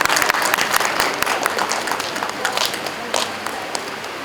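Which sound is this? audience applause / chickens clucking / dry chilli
audience applause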